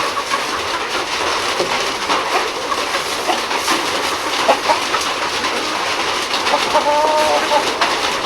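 Free-range chickens on a farm cluck and chatter while feeding, a dense overlapping flock of calls with sharper clucks poking through a constant bright background.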